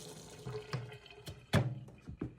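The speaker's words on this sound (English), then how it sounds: "So I'm going to rinse out the dirty water" Water runs from a kitchen tap while dirty water is rinsed from potatoes, with irregular splashes and clatters and one loud splash near the middle.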